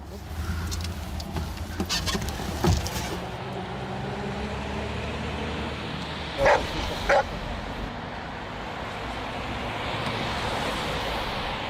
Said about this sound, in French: Il y a le chien des stupes qui va venir.